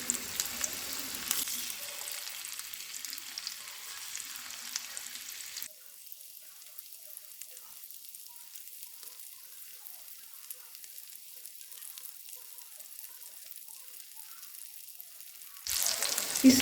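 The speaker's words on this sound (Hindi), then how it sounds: "तेल को करेंगे थोड़ा गरम और फिर अब हम इसमें डालेंगे चिकन, जिसे हमने राइस फ्लावर से कोट करके लिया है।" Chicken pieces coated in rice flour drop into hot oil and fry with a steady broadband sizzle, loud at first, then settling into a softer continuous crackle before rising again at the end; no one speaks.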